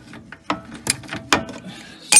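Ratchet on the nut of a rear control arm bolt on a 2011 Volkswagen Tiguan, giving a few sharp metallic clicks and clacks at irregular intervals, close and loud, ending in a louder clank.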